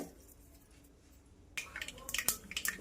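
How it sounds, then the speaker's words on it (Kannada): Mustard seeds pop and crackle in hot oil while tadka is made for Melkote-style puliyogare. It starts as a quiet sizzle, then about halfway through turns to sharp, irregular spluttering bursts heard up close. "ಈಗ ಸಾಸಿವೆ ಸಿಡ್ದಿದೆ."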